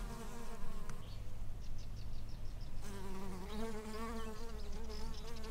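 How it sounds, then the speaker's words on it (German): Many bees buzz around a field in Greece, a dense continuous drone of overlapping insect wings, some passing close and louder, others fainter in the background. "jetzt waren auf jeden Fall richtig viele Bienen unterwegs"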